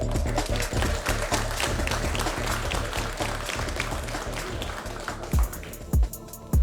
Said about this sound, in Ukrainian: Давайте підтримаємо його оплесками.